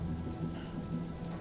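Steady low rumble and rain-like hiss of a storm in the horror game Man of Medan, a continuous wash of moderate loudness with no talking over it.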